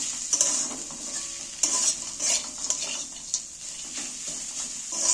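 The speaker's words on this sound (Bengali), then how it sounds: "ভালো করে নাড়াচাড়া করে নেবো কষিয়ে নেবো" Cabbage and flour mixture being stirred and sautéed in a pan, with repeated scraping strokes of a spatula over a soft sizzle, close and moderately quiet, with no talking.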